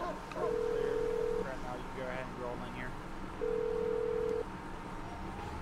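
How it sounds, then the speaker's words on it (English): A phone rings inside a video game, two long steady electronic ring tones about three seconds apart, each lasting roughly a second, with voices talking over a murky background. "I heard my phone ring"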